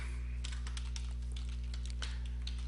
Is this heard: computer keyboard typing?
yes